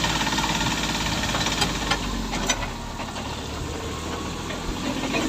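Service tractor engine running steadily while people ride aboard on a farm field, a continuous close rumbling drone with knocking vibration and occasional clanks.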